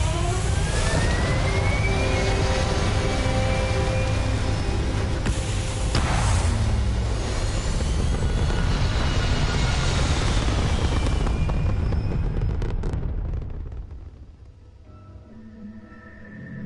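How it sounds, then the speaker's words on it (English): Spaceship thrusters firing in Starfield, a loud continuous roaring rumble with whooshing rising tones that holds steady for most of the stretch before fading near the end. "All thrusters firing."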